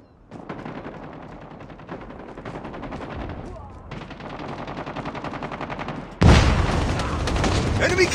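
Gunfire in the mobile shooter Call of Duty Mobile, a loud sustained stream of rapid automatic bursts that swells into a heavier, harsher barrage, with game voice callouts mixed into the action.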